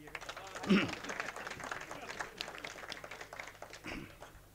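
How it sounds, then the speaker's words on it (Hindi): Audience applause at an Urdu mushaira poetry recital in Hyderabad, soft distant clapping spread across the room with a loud burst near the start, mixed with crowd murmur. "तालियां बजाइएगा"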